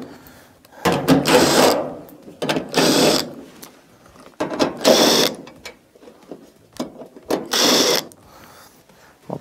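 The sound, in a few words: removing quarter-inch screws from dryer back plate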